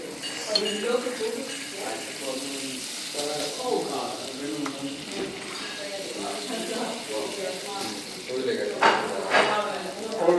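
Butter sizzles and fries in a pan for crêpes Suzette, a steady crackling hiss with occasional utensil clinks, close and moderately loud under ongoing talk.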